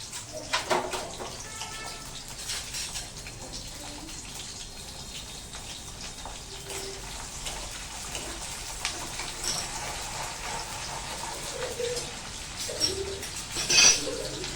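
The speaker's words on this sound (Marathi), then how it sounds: "हा लसूण आपण याच्यामध्ये मस्त तळून घेऊया" Garlic frying in hot oil in a kadhai over medium-to-high flame gives a steady, fairly quiet crackling sizzle throughout, with a few brief louder pops near the end.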